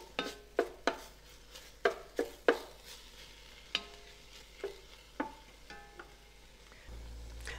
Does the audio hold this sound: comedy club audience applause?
no